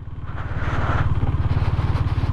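A motorcycle rides along a snow-covered road near Tawang, its engine a steady, close, rapid throbbing pulse that holds throughout, with no talk.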